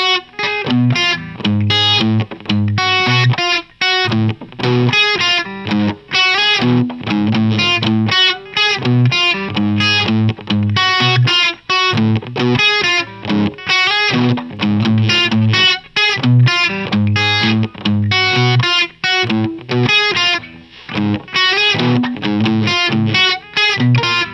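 Distorted electric guitar plays a busy, continuous melody over a moving bass line, steady and loud throughout with brief gaps between phrases.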